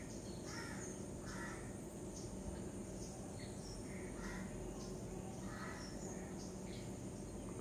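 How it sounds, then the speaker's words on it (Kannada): Morning birds in Kerala, mostly cawing crows, call in short repeated bursts over a steady background drone of insects, fairly faint and with no voices. "ಪಕ್ಷಿ ಆವಾಸ್ ಕೇಳಿಸೋ ಅದೊಂದು ಚಲೋ ಅನ್ಸಾಕತ್ತೈತಿ"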